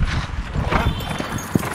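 Horse hooves clip-clop steadily at a riding club in Mosul, a close, continuous patter of hoof beats with no voices over it.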